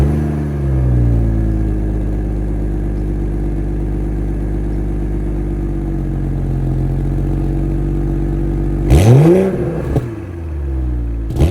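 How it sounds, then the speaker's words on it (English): A 2024 BMW X3 M40i's 3-liter B58 twin-scroll turbo inline six idles with a steady low hum, then gets a short sharp rev near the end before settling back, close and loud with no talking. "that was the sound of the 3-liter B58 twin-scroll turbo inline 6-cylinder"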